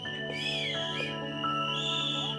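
Audience members at a film trailer launch event whistle in several sharp, sliding tones over a steady hum of crowd noise, fairly faint and at a distance.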